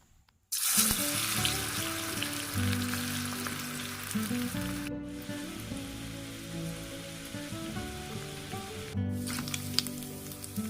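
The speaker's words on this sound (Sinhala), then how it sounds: "තෙල් රත් වෙලා තියෙන්නේ. අපි Bandakka ටික දාගමු." Okra dropped into hot oil sets off a sudden, steady crackling sizzle that stays dense and even, close up, with no talk.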